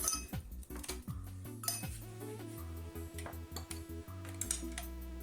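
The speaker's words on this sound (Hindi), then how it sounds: "इसमें सबसे पहले हम बर्फ डाल देते हैं।" Ice is added for a fresh summer juice, giving a series of hard clinks and clatters against a glass or metal vessel, close up, over faint background tones.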